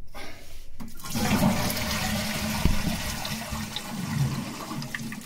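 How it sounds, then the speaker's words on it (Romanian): A toilet flushes with a rushing, gurgling surge of water that continues steadily as the bowl drains and refills, close by, with the cistern leaking despite silicone sealing. "Dacă tragem apa"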